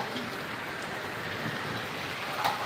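Rain falling steadily outside as a soft, even wash of patter, fairly faint and continuous, with no voices.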